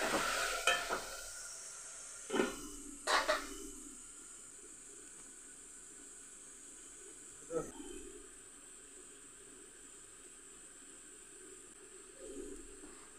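Fish curry with tomato sizzles in a pan in a home kitchen, a steady bright hiss throughout, broken by a few clanks and stirring scrapes near the start.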